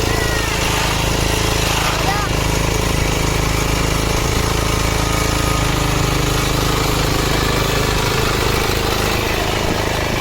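A tractor engine drones loudly and steadily throughout, a rough low mechanical rumble with no pauses, close by and filling the whole stretch, in a rice field during transplanting.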